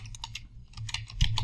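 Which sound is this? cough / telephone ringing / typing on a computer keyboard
typing on a computer keyboard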